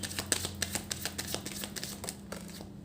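Tarot cards are drawn from a deck and laid down in a quiet room, giving a string of soft papery flicks, slides and light taps at close range.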